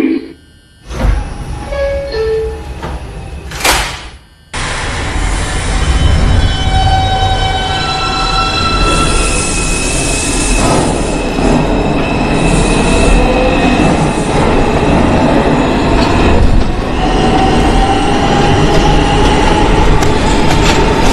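An R142 subway train on the IRT 5 line in Brooklyn rumbles loudly and steadily on the rails after a short quieter start, with clattering wheels and high metallic squeals riding over the continuous roar.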